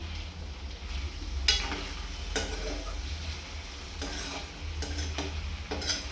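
Potato fry being stirred in a pan, a low simmering sizzle broken by several short spoon scrapes and clicks against the pan.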